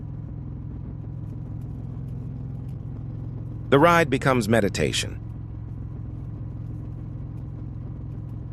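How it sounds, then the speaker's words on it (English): A motorcycle engine on a night ride hums as a steady low rumble throughout, with someone briefly speaking over it partway through. "Engine noise replaces scattered thoughts."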